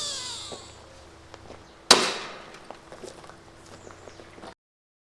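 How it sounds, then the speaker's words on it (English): A powerful pump-up crossbow fires a bolt into a target block with a single sharp, loud crack, followed by a fading rattle and a few scattered small knocks before silence. "even this powerful crossbow was not able to drive it through the entire block"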